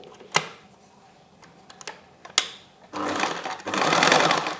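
Sewing machine stitching along the edge of fabric during tailoring, starting with a few sharp clicks and taps, then two loud, close, steady bursts of rapid mechanical whirring, the second one longer.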